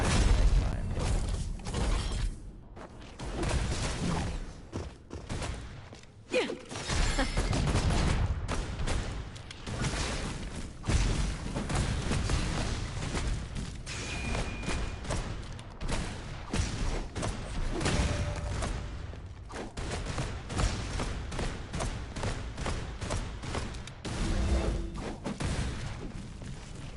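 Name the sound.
grenade bomb explosions from a video game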